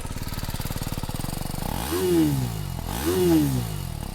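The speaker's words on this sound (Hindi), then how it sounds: "ये सिंगल सिलेंडर इंजन है तो इसका इतना ही साउंड आता है।" A BMW G310R single-cylinder motorcycle idles with a steady thumping exhaust, then is revved twice, each rev rising and falling back to idle.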